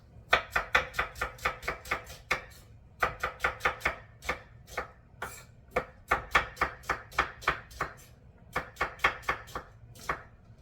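A knife chops an onion on a cutting board in rapid, evenly spaced strikes grouped into bursts with brief pauses, each hit crisp and close with no talking.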